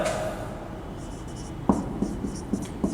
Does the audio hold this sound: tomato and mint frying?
no